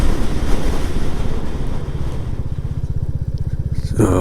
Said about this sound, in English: That wind is definitely getting stronger.